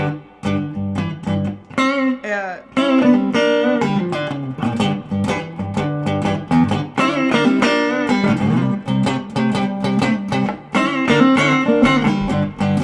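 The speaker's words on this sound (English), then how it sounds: "those licks are in minor keys or sevenths and stuff like that" Electric guitar plays a string of expressive blues solo licks with bends and quick note clusters, fairly loud and continuous, with no talking.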